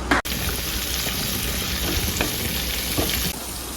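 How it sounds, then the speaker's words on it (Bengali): Steady, continuous sizzle of onion and garlic frying in hot oil, close and fairly loud, with a faint clatter near the start and no voices. "পেঁয়াজ রসুন ভাজা হচ্ছে"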